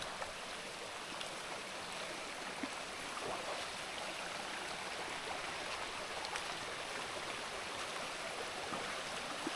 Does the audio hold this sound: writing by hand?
no